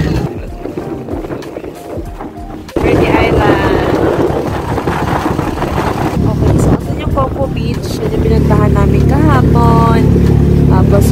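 An outboard motor boat engine drones steadily beneath wind noise and nearby talking, growing louder and fuller partway through, off Puerto Galera.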